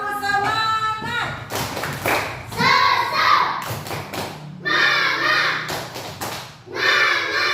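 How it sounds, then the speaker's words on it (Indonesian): A classroom group of children performs a rhythmic spirit clap, with bursts of hand claps and thumps in a patterned beat mixed with loud chanting voices throughout. "Ayo coba tepuk semangat dulu, yuk sekali, tepuk semangat."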